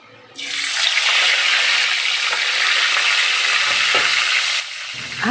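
Food hits a hot pan with a sudden loud sizzle, frying steadily and evenly for several seconds before the hiss abruptly drops away, leaving faint clatter.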